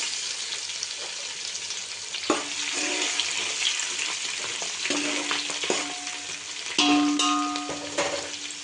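Coconut for bhadang roasts in a pan, giving a soft, continuous sizzle and crackle with occasional stirring scrapes and clinks of a utensil against metal, close and moderately quiet, no one speaking.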